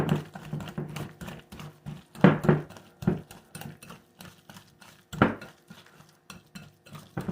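Cornbread batter made from fresh-ground cornmeal is mixed in a bowl, a steady run of close spoon-against-bowl clacks and scrapes with a few heavier knocks, heard alone without talk.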